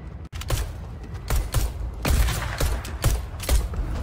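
Shotgun blasts in the video game Fortnite, a rapid series of sharp, loud reports repeating roughly every half second over several seconds with no talking.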